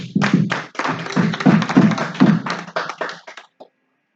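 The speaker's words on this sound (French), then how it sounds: "Applaudissons pour lui." Church audience at a harvest fruit sale claps in a short, loud burst of close hand claps in loose rhythm, fading and stopping abruptly after about three and a half seconds.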